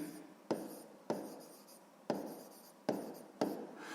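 Math notes written by hand for a sixth-grade exercise, pen or pencil scratching across paper in short strokes, each starting with a sharp tap, about five in a row, close and quiet, with no speech.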